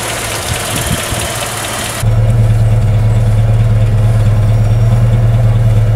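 A classic Rover P4 80 car engine idles steadily close by, with a deep, even low rumble that grows louder partway through and then holds constant. No one speaks.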